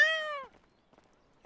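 A cat in the video game GTA 5 gives one clear, rising-and-falling meow, close and fairly loud, followed by near silence with a few faint clicks.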